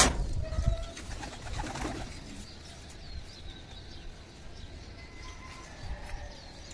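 Pigeons cooing in a loft as males are let in among the females, with soft repeated coos and some scuffling and wing movement near the start, then quieter calls continuing at moderate distance.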